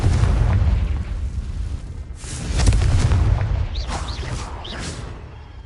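Booming fiery blasts from the Confringo spell in Hogwarts Legacy, loud and close, rolling over several seconds with a second swell midway and crackling, whooshing bursts trailing off at the end.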